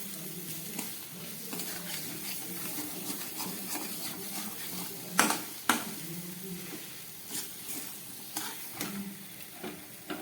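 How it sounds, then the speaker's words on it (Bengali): Spice paste for a spicy Bengali tengra catfish curry fries and is stirred in a pan, a steady sizzle under the occasional clack of a spoon against the pan. "ভালো করে মশলাটা কষিয়ে নিলাম"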